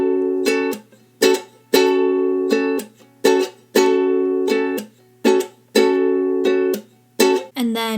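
Ukulele strummed in a repeating down-up-slap-down pattern, bright chords broken by sharp percussive mutes, played alone and close for the verse of a K-pop song.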